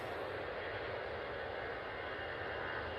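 An EasyJet airliner on its takeoff run, a steady broadband jet engine roar that holds constant and fairly loud, with no voices.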